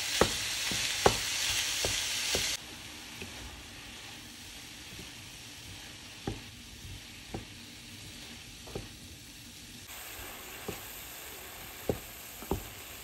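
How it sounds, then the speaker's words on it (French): Half a kilo of ground beef sizzles steadily in a pan. A spoon scrapes and taps the pan in sharp, spaced knocks as the meat is stirred regularly, with a louder hiss at the start that settles lower. "Ajoutez à ça 500 g de bœuf haché et cuire en mélangeant régulièrement pendant environ 5 minutes."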